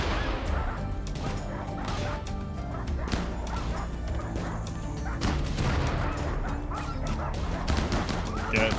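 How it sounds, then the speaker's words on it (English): Dogs bark and yip loudly and repeatedly in the video game RimWorld, with thuds of a door being smashed, while a person talks over the noise throughout. "the dogs will start breaking down that door if they see him go through it"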